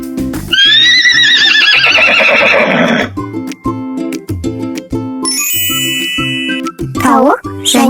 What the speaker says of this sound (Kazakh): Жүйрік жануар, ол жылқы,